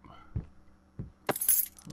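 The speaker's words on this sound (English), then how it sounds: "Keys for something, obviously." Keys jangling in the horror game Layers of Fear, a few soft knocks and then a bright metallic jingle of keys being picked up, close and brief.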